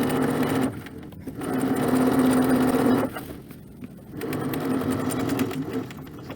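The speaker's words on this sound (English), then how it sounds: "now I'm going to sew down the length of my pocket at 1/8 of an inch to the inside cross of the toe" Sewing machine stitching steadily down the length of an apron pocket in two long close runs, with a short pause between them and a brief stop near the end.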